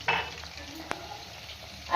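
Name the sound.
chicken pakoras frying in oil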